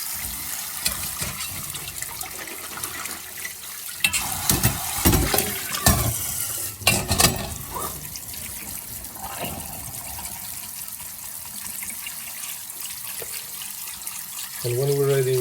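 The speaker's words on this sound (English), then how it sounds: "We have to rinse it thoroughly several times to get rid of the baking soda." Chickpeas soaked with baking soda are rinsed under a running kitchen tap, water splashing and trickling steadily close by, with a louder burst of sloshing midway and a heavier gush near the end.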